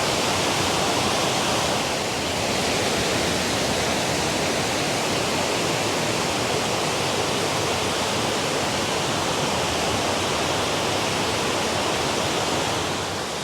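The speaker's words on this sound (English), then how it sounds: "we are nearing Ganoga Falls, which is the 94-foot cascading waterfall" Ganoga Falls, a 94-foot cascading waterfall at Ricketts Glen State Park, roars as a dense, unbroken wash of rushing water, loud and constant throughout with no voices.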